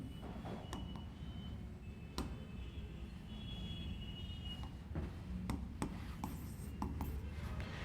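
Chalk or marker tapping and scraping on a classroom board while a quantum mechanics question is written, scattered sharp taps over a constant background hiss, no voices.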